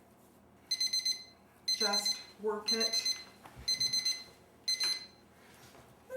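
A kitchen timer rings in a home kitchen during whole wheat bread making, sounding in short repeated bursts of high electronic beeping, with a person talking briefly between the rings.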